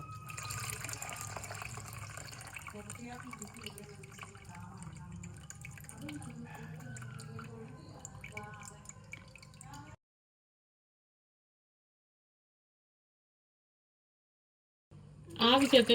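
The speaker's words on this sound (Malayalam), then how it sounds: "ചായ ഇടാൻ വേണ്ടി പാൽ ഒഴിക്കുകയാണ്" Milk is poured into a pot for tea, a close liquid gush and trickle for several seconds, then silence before a brief loud clatter at the end.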